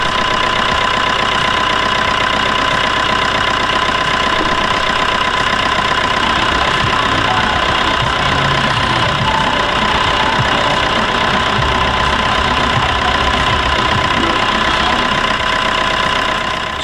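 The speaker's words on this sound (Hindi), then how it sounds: "alright, the car has been started" A car engine idles steadily and loud throughout, a dense continuous mechanical drone with a constant hum and no pauses or speech.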